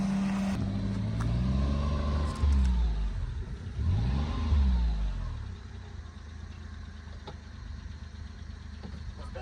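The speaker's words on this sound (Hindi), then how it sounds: "बहुत हल्के प्यार से गाड़ी को यहाँ से निकालने की कोशिश करेंगे" A Maruti 800 car engine revs hard while offroading over rocks, rising and falling in repeated strained bursts near the microphone before settling into a lower, steadier running hum.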